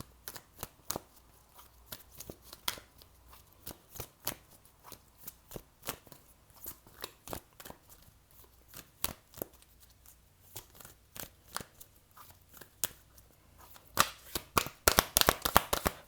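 Tarot cards shuffled by hand in quick, crisp riffles and taps, close and quiet, with a denser flurry of shuffling at the end.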